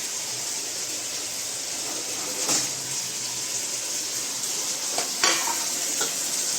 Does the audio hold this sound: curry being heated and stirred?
yes